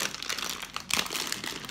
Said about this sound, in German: Mal Tüte aufkriegen.